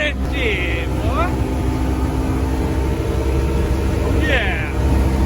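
A 2021 side-by-side UTV engine, a Yamaha Wolverine or Polaris General at a drag-race test launch, drones loudly and steadily, with brief rising revs near the start and end while people talk over it.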